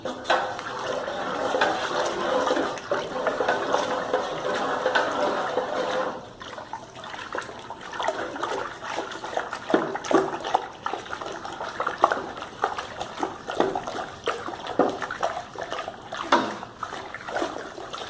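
Beer wort for a White IPA is swirled in a whirlpool in the brewing pot after immersion chilling, giving a continuous sloshing, gurgling rush of liquid that swells and ebbs with splashy bursts, with no talk.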